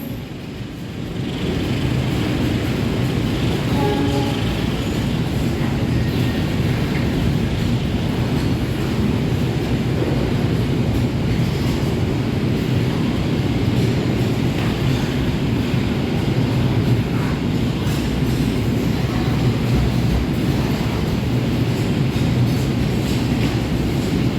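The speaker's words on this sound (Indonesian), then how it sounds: "Sudah diberangkatkan kembali dari jalur 2 kereta api angkutan barang 2510" Freight train 2510 pulling out of track 2 at an Indonesian station, a steady loud rumble of wheels and rolling wagons building within the first two seconds and continuing evenly throughout, with no voices.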